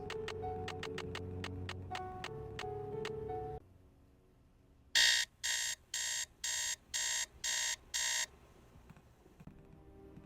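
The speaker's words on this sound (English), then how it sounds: "Set an alarm at 3 a.m. and go in to talk to Professor Hotchkiss." Alarm clock ringing in the Nancy Drew game Treasure in the Royal Tower, a series of bright electronic pulsed rings in a steady rhythm, following a plinking chime melody, loud and clear.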